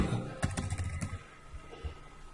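Typing on a computer keyboard: a quick run of close, soft key clicks, denser at first and then thinning out to a few scattered taps.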